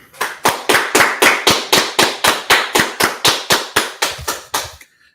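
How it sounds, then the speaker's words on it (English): Audience at an Israelite School of Universal Practical Knowledge street gathering in Washington DC claps in a loud, steady rhythm of about fifteen sharp, evenly spaced beats, close and unaccompanied by talk, stopping abruptly at the end. "let's clap it up"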